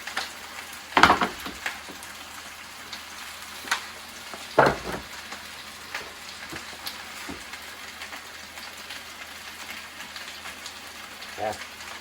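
Hot dogs and potatoes fry in a pan, giving a soft continuous sizzle broken by a few loud crackling pops, with faint voice murmurs now and then.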